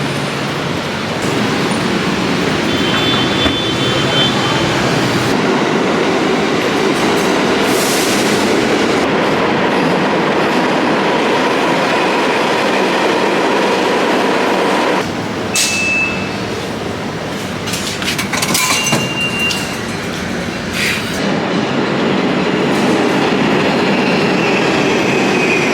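A train running on rails, heard from on board: a loud, steady rumble with rhythmic clickety-clack and occasional wheel squeal throughout, no talking.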